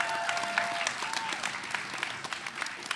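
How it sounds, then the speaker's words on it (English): An audience at a school spoken word poetry event applauds the poets with continuous dense clapping, steady and fairly distant throughout. "Give those poets a big round of applause."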